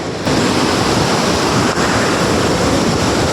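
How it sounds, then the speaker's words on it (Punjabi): The fast-flowing Alaknanda river roars beneath an old wooden plank bridge, a loud, steady broadband rush of churning water that fills the whole stretch without a pause, with no voices over it. "ਨਦੀ ਬਹੁਤ ਤੇਜ਼ ਚੱਲਦੀ ਆ"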